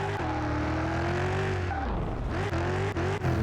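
A heavy Ford truck engine in Car Mechanic Simulator 2021 revs and drones loudly while driving, its pitch rising and falling, with some tire squeal as it corners.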